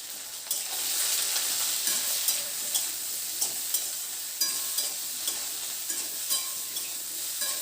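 Potatoes and eggplant sprinkled with a little turmeric sizzle and fry steadily in a pan, with soft scrapes and clicks of stirring recurring through the hissing.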